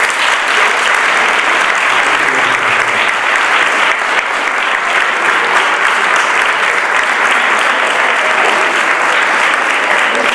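A large audience at a rural school conference claps strongly and steadily for about ten seconds, a dense, loud, continuous wash of applause with no talking over it.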